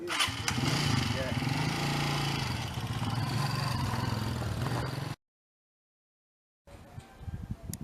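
A motorcycle engine runs close by, a steady mid-pitched chugging drone that shifts in pitch partway through, then cuts to silence before a rougher burst of engine noise returns, with voices talking over it.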